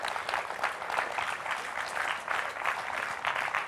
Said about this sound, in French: Donc je vous demande vraiment d'applaudir.